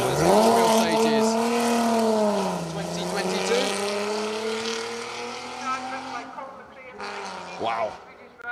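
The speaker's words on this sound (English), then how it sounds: "Side exit exhaust on that Sierra XR 4x4, letting that V6 engine entertain the crowds." A Ford Sierra XR4x4 rally car with a V6 engine and side-exit exhaust, heard on a historic rally stage, sends out a loud, sustained engine note that rises and falls through the gears. A commentator talks over it.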